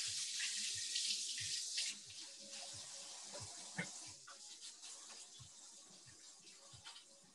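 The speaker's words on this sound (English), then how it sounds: "now, let me rinse my hands." Hands rinsed under a running kitchen tap, a steady hiss of flowing water with splashing that tapers off toward the end, close and clear without talk.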